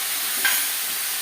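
Chopped pumpkin, cauliflower, broad beans and carrot hit a hot pan for vegetable khichuri, giving a brief close sizzle and stir with a small clatter midway.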